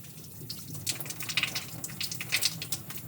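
Tap water splashes and trickles while lab glassware from an electrolysis setup is rinsed, a faint run of irregular splashes and drips that starts after a quiet pause and continues unevenly at close range.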